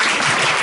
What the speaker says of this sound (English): Yeah, please clap.